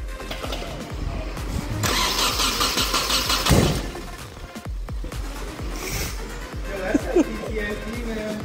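A Nissan KA24DET engine cranks over for its first startup attempt, the starter churning in a loud sustained whir with a brief surge, while people talk nearby.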